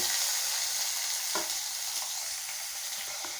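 Onions sizzling in a hot pan with a steady hiss, broken by a few soft scrapes of a spoon stirring, while making puli sadam.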